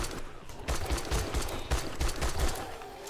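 Rapid bursts of gunfire in the video game 7 Days to Die crackle in quick succession, a steady volley of close shots with a dense, noisy backdrop.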